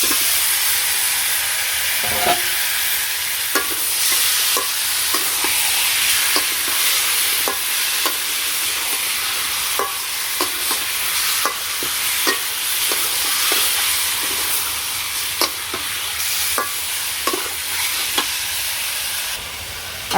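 Chicken meat fries with fried onions for a rural chicken curry, a steady loud sizzle broken by repeated spoon scrapes and stirring knocks.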